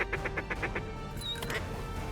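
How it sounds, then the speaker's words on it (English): Ducks flying in to a hunting setup, giving a quick run of about seven rhythmic quacks close by, then a couple of scattered calls over steady outdoor background noise. "Now that is how ducks are supposed to come in"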